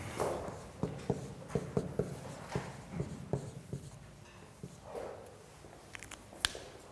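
A lecturer writes on a board during a philosophy class, a series of sharp chalky taps and scratching strokes in an irregular rhythm, fairly close in a quiet room with no talk.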